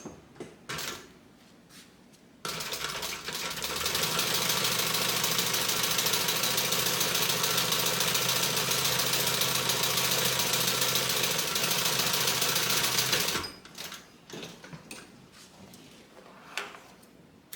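A sewing machine stitching the side panel of a bag, running loud and steady for about eleven seconds, with quieter handling clicks and thumps before and after it.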